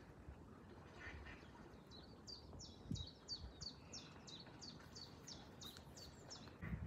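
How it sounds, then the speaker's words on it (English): A male and a female duck fight outdoors, a run of repeated quacks in a steady series over rustling, scuffling background noise, fairly faint and distant. "it was a male duck and a female duck"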